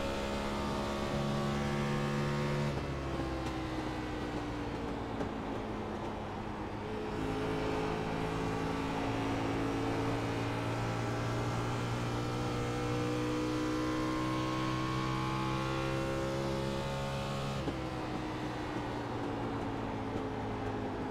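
A race car in a racing video game laps Kentucky Speedway, its engine droning steadily at high revs with smooth pitch glides as it shifts and eases off through the turns, loud and continuous throughout without talk.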